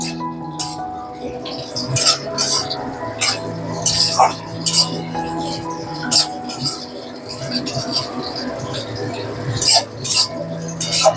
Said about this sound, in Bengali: এবারে আমি মশলাটাকে ভালোভাবে কষিয়ে নেব। এর সাথে আমি দুটো কাঁচা লঙ্কা দিয়ে দিলাম।